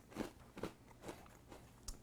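Close, crisp crunching of a lightly sweetened fish and star shaped cereal, four or five distinct bites or chews spaced a little under half a second apart, quiet and with no talking.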